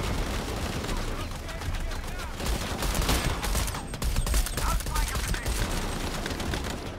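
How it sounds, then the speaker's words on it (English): Rapid machine gun fire in the Shadow of the Tomb Raider video game rattles as dense, continuous bursts of gunshots that stay fairly quiet throughout, with a voice speaking over the gunfire. "I don't see anything up there to destroy that machine gun thing"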